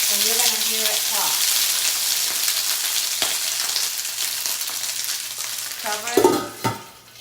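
Garlic frying in unfiltered olive oil sizzles and crackles steadily with small pops, close up, with a brief clink of a utensil near the end.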